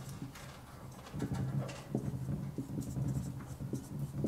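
During an organic chemistry lecture, a marker or chalk writes on a board in quick, irregular strokes and taps, close and moderately quiet, with no talk.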